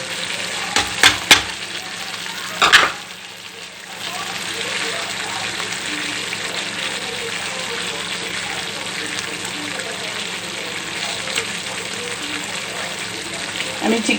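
Chicken sizzles and fries steadily in a pan with fennel seeds, onion and capsicum, stirred with a few sharp scraping clatters at the start, then a continuous close, even hiss.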